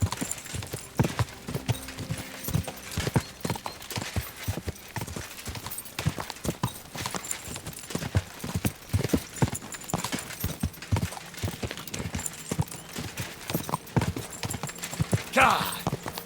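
Horse hooves clip-clop in a steady galloping rhythm throughout, close and prominent, in the medieval game Kingdom Come: Deliverance II, with a voice speaking over it and a brief neigh near the end.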